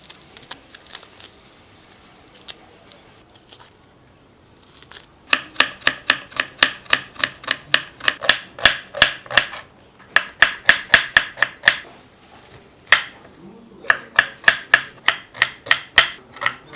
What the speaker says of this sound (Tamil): 1 கிலோ ஆனியனை அதாவது பெரிய வெங்காயத்தை தோல் உரிச்சிட்டு நீளமாக கட் பண்ணி எடுத்துக்கலாம்